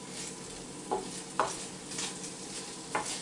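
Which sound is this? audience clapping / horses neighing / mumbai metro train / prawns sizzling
prawns sizzling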